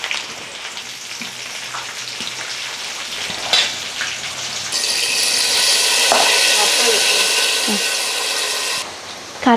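Rain falls in a continuous hiss, and midway it swells into a heavy, dense downpour before easing at the end. Brief voices and household noises sit under it early on.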